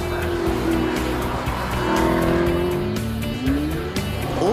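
An Alfa Romeo 8C Spider with a 4.7-litre V8 drives at the Goodwood Festival of Speed: a loud, sustained engine roar that climbs in pitch through the gears, with tyre squeal running underneath.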